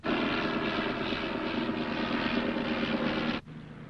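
Propeller aircraft engine droning steadily in flight in a 1956 drama film, a loud continuous roar that cuts off sharply near the end.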